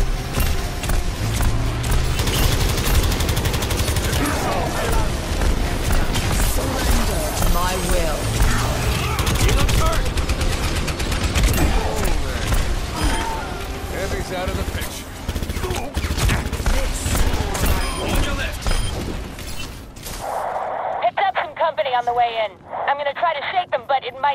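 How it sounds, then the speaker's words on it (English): Rapid bursts of weapon fire and chaotic battle effects fill an Overwatch Archives event match, loud and nearly continuous for about twenty seconds, with players talking over it before it thins out into sparse clicks and effects. "Getting shot at."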